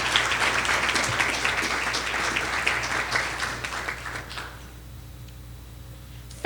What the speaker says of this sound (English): Please give the entire team a round of applause.